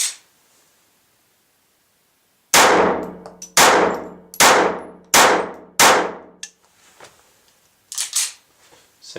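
Walther TPH .22 LR pistol firing CCI ammunition: five sharp, close reports in quick succession, each ringing briefly, followed by faint mechanical clicks and a couple of softer bangs.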